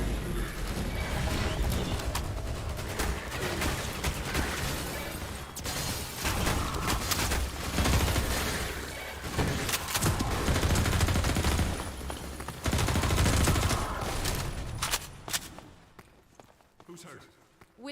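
Bursts of gunfire from a weapon's alternate fire mode in Half-Life 2, rapid loud shots mixed with combat noise and clatter, fading out near the end, with voices talking over the action.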